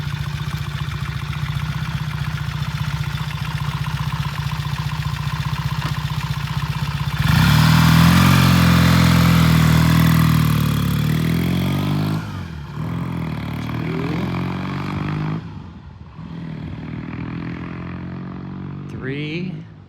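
A Triumph T100 motorcycle on a test ride, its engine running steadily then swelling louder as it pulls through the gears before easing off, with speech over parts of it.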